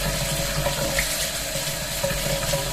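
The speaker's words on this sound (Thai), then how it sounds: "เขาจะมีดินติดเยอะมากเลยค่ะ ต้องล้างเขาสะอาด" Tap water runs steadily into a sink as dirt is washed off wild cat's ear greens, a continuous close gush with no speech.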